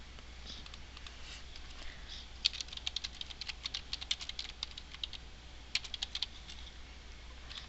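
Rapid computer keyboard keys being pressed, a steady close-up patter of clicks with denser bursts in the middle and near the end, alone without voices.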